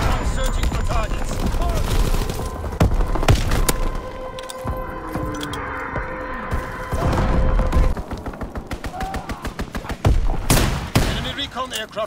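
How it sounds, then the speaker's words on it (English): Mortar fire and explosions crash through a Call of Duty: WWII battle, with repeated booms and bursts of gunfire over a steady rumble and radio-style voice callouts. "Enemy mortar fire incoming."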